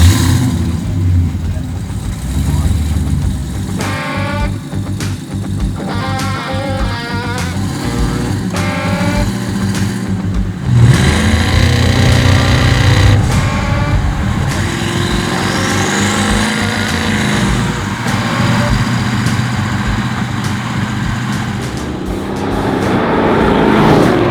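A twin-turbo LSX-powered 1966 Chevelle is heard on the road, its loud engine droning steadily and swelling as it accelerates, with voices talking over it.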